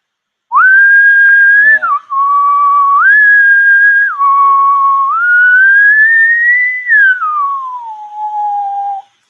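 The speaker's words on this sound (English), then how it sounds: "so the deal is if I whistle" A single person whistles a clear, loud melody alone for about nine seconds, with sustained tones that step up and down and a long rising then falling glide, in a space with some ambient noise.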